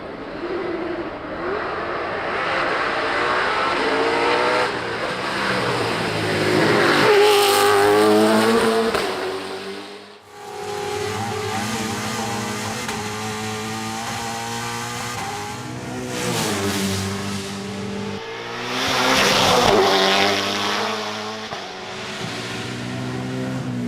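A touring race car dating from 1990 accelerates hard at the Goodwood Festival of Speed. Its loud engine roars and climbs through the revs, drops sharply at each gear change, then screams upward again, close and uninterrupted.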